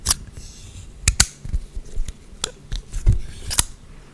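A folding EDC knife with a liner lock and a gritty, sandy-feeling mechanism is opened and closed, giving a string of sharp, close clicks and snaps at irregular intervals with faint scraping between them.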